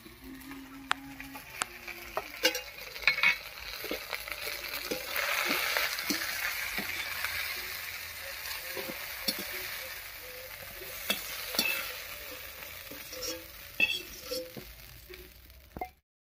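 Onions and eggplant fry in a pan with a steady sizzle while a utensil stirs and scrapes, giving occasional knocks and clinks. The sound is close and moderately loud, with no talking, and it fades out at the end.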